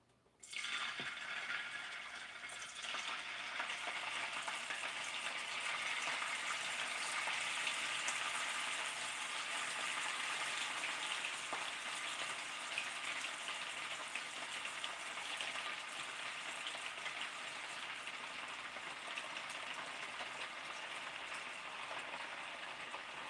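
Steak and vegetables sizzle steadily in a hot pan, a dense, continuous frying hiss that stays loud and close throughout with no talking.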